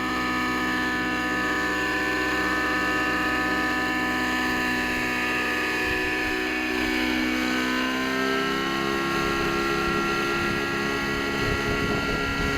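An OS 91HZ nitro engine on a Vibe 50 big-block RC helicopter whines loudly and continuously, its pitch climbing and then settling higher as the governor engages, with the rotor drone and mechanical buzz close throughout.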